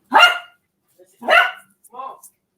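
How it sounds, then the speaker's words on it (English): Playful dogs bark in short bursts, two sharp barks followed by a softer yip, close by and with no human voices. "The dogs are playing."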